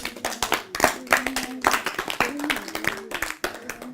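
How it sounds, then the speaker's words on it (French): A class claps hands in quick, uneven bursts for several seconds, loud and close, with a steady tone and faint voices underneath. "Donnez-vous de bons applaudissements. Big hand clap."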